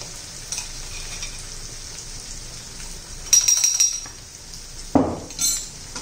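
Whole spices such as fennel, cumin, coriander and mustard seeds sizzle steadily in hot oil for a chili dish, with a few sharp clinks of a utensil against the pan partway through and no talking.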